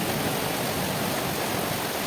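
A stream of rainwater runs after a storm, flowing through small channels into a pond. It makes a loud, unbroken rushing hiss, close by and steady throughout.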